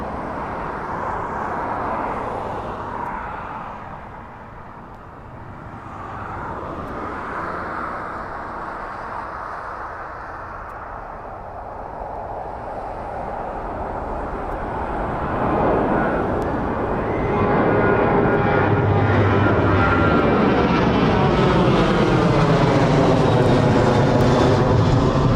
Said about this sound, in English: Line up behind the departing Ryanair 737.